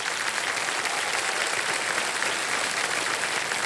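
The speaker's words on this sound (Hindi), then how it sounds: "एक जोरदार तालियां बज जाएं।" Studio audience applause on the KBC quiz show, a steady dense wash of many hands clapping at moderate level, continuous and without talk for several seconds.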